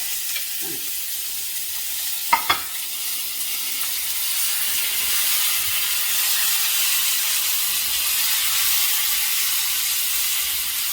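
Green chillies and chow chow pieces frying in hot oil, a steady close hiss and sizzle that swells slightly after a couple of sharp clinks near the start, with no talk over it.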